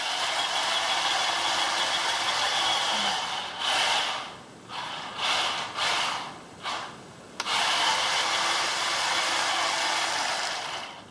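A toy RC battle tank with upgraded high-performance motors runs on a LiPo battery, its electric motors whining loudly and continuously, then cutting in and out in several short bursts before surging back to a steady high whine.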